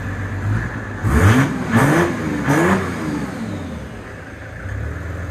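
Mazda single-rotor engine in a homemade bathtub Porsche revving in a garage. Three sharp, loud throttle blips rise and fall in quick succession, then settle back to a lumpy idle, with no talk.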